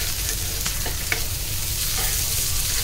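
Rawas fish frying Malvani style on a high flame, a dense, constant sizzle with a few faint utensil taps, close and unbroken, no speech.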